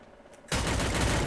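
A sudden loud burst of rapid automatic gunfire in the battle royale game Free Fire cuts in after a brief quiet moment and continues steadily to the end.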